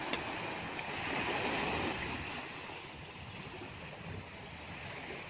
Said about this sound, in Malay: Laut Aceh Jaya yang sangat indah